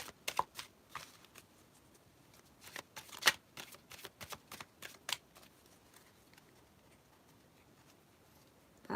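A deck of tarot cards shuffled by hand in a quiet room, with a series of soft, crisp riffling bursts and taps in an irregular rhythm, close and fairly faint.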